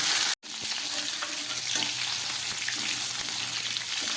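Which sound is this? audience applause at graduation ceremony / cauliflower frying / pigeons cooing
cauliflower frying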